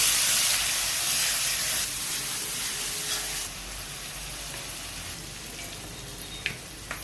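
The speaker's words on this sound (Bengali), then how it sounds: "এখন আদা রসুনের পেস্টটা দিয়ে দিলাম" Ginger-garlic paste hits hot oil with already fried onions for a chicken and bottle gourd curry. A loud, close sizzle steps down in intensity and settles into a softer hiss, with a few faint clicks near the end and no talk.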